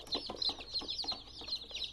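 Buffalo Orpington baby chicks cheeping close up, a rapid string of high, thin peeps repeating in quick overlapping bursts with no talking.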